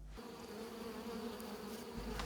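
A honeybee swarm leaving the hive makes a continuous buzzing drone of many bees, close and steady, with a few louder passes of individual bees near the end.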